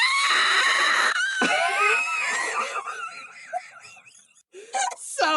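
A human voice imitates the constant screaming of rotting undead Draugr with gaping jaws, giving long, loud, wavering shrieks and wails that break off briefly and then return.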